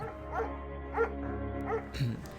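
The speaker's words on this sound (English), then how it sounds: "There's also an intimidating but gentle-eyed German Shepherd." A German Shepherd in the video game Firewatch gives a few soft, spaced barks over a steady low background hum, near and moderately quiet.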